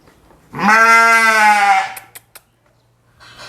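A purebred Dorper sheep on a farm lets out one loud, wavering bleat lasting over a second, close by, followed by a few light knocks and a quiet hum.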